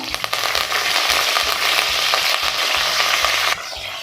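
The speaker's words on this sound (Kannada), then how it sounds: "ಆಯಿಲ್ ಬಿಸಿ ಆದಮೇಲೆ ಇದರಲ್ಲಿ ಸ್ವಲ್ಪ ಸಾಸಿವೆ, ಸ್ವಲ್ಪ ಜೀರಿಗೆ, ಕರಿಬೇವು, ಸ್ವಲ್ಪ" Mustard seeds, cumin and curry leaves sizzle loudly in hot oil, a dense, continuous crackling fry with rhythmic low scraping of a spoon stirring the pan, the sizzle easing slightly near the end.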